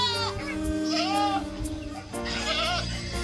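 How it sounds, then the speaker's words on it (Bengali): Young goats on an Arabian desert farm house in Dubai bleat close by, several wavering cries overlapping in quick succession over a low background. "এটা হলো ছোট ছাগল, ছাগলের খামার।"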